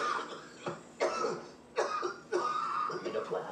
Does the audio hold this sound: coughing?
yes